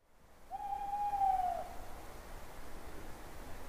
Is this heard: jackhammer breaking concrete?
no